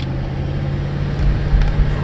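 A Kia Mohave KV460 gasoline twin-turbo fitted with a Bosch electric fan climbs a hill at about 20–30 km/h, its steady low engine drone mixed with road rumble and a few small swells toward the end.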